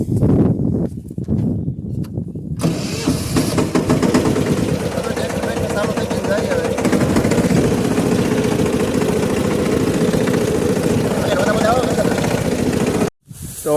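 A loaded farm tractor's engine runs steadily and loudly at close range, a continuous low rumbling drone, with a voice talking over it for much of the time before it cuts off near the end.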